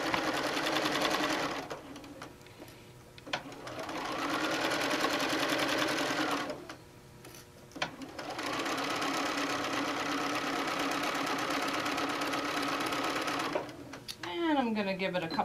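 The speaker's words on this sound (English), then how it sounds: "I'm sewing probably about a quarter of an inch" A sewing machine stitches a seam on a knit headband, running in long, steady, close bursts with brief stops between, and a person speaks near the end.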